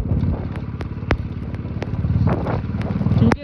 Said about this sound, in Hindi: अभी बाइक चला रहा हूँ